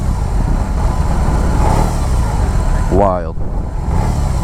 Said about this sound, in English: Every time you rev it, the bike wants to twist.